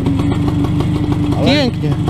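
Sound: WSK motorcycle engine running

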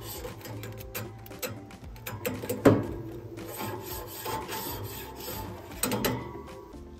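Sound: grill floss brush scrubbing grill grates

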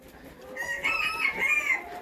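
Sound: chicken clucking in a coop

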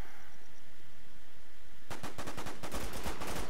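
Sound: gunshots in a video game

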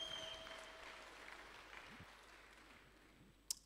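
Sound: applause for the speaker's wife

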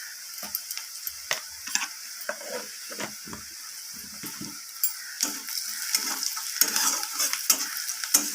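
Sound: stirring turmeric and spices frying in pan

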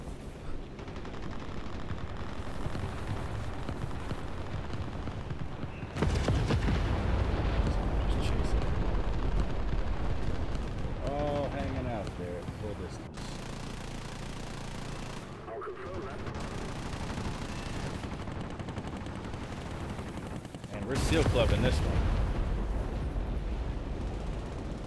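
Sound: gunfire and explosions in War Thunder video game

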